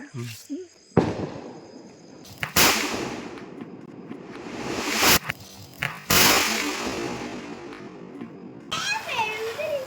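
Garnal firecrackers bursting during a Vishu celebration, a rapid string of loud sharp cracks and bangs in several long volleys with brief gaps, with a voice at the end.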